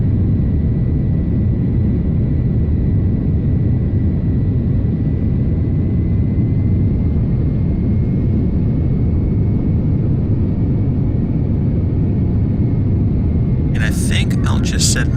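A steady, loud jet engine rumble and hiss from an airliner taxiing in Flight Simulator X fills the whole stretch without a break, and a few short clicks sound near the end.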